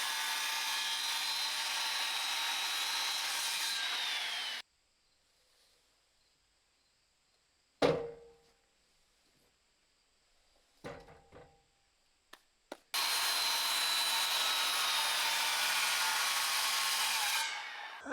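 Chainsaw cutting into a solid maple post while building a large sawmill shelter: a loud, steady buzzing cut that stops abruptly, leaving a quiet gap broken by a few knocks and clatters, then the saw roars back in at full volume to the end.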